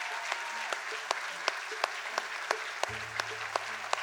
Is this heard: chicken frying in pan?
no